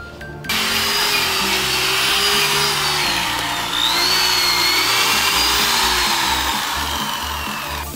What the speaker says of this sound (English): we're gonna do some more paint stripping